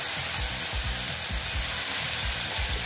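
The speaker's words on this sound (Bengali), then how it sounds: "এখন দেখো এই যে টমেটো আর আদা আর কাঁচা লঙ্কা" Tomato, ginger and green chili hit a pan of onions already fried dark, giving a steady close sizzle of frying with soft rhythmic thumps of stirring throughout.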